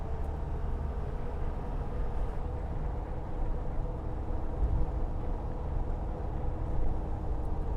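Land Rover Defender D110 engine droning steadily in fifth gear on a bumpy, twisty, uneven road, a low continuous rumble heard from inside the cabin with road noise and no talking.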